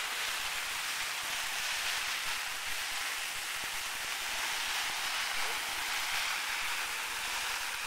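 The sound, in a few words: heavy simulated rain falling on military poncho shelter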